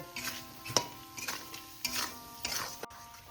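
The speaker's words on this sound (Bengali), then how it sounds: "এবার ভালো করে মশলাটাকে আমি কষিয়ে নেব।" A spice masala is stir-fried in a pan for cabbage kofta, giving a soft sizzle with several scraping strokes of a utensil against the pan at an uneven pace, close and fairly quiet.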